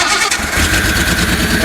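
Close, loud engine of a 1974 Datsun 260Z cranking and catching, its carburetors uncleaned, with a brief starter churn giving way to a steady, rough running roar, heard alone.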